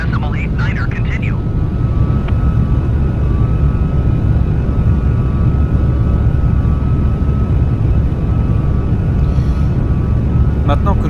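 Steady loud roar of a Boeing airliner climbing out after takeoff in a flight simulator game, filling the whole stretch with broadband engine and wind noise, with a voice speaking briefly at the start.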